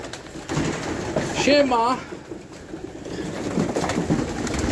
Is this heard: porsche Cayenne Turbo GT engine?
no